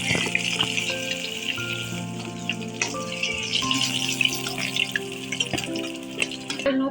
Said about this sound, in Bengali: সব মাছগুলো কিরকম ভেজে নিচ্ছি কড়া করে